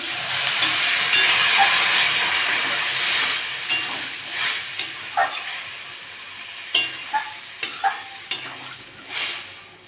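Water splashes into fried spice masala in a pan for a small-fish curry with potato and eggplant. It hisses and sizzles steadily, with a run of sharp utensil taps and clinks near the end, and no voices.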